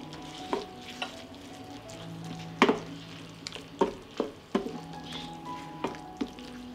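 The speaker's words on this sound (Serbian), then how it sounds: "Sve ću promešati i nastaviti da pržim još 5 minuta." Vegetables and meat fry in a pan with dried seasoning and sweet ground red paprika, giving a steady soft sizzle broken by several sharp scraping knocks as the mixture is stirred.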